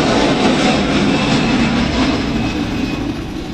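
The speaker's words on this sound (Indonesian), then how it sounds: "ada pesawat lewat." Airplane passing overhead, a broad steady roar that fills the whole moment and fades slightly toward the end, with no voices.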